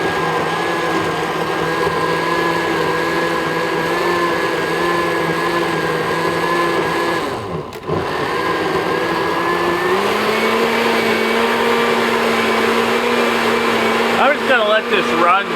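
A blender runs steadily and loudly, chopping carbon and fiberglass material from gold-corner BGA chips, its motor whining continuously with a brief dip partway through before settling into a slightly lower pitch.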